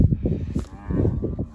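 Cattle moo loudly and close by during work with heifers on a farm, a short series of deep, pulsing bellows.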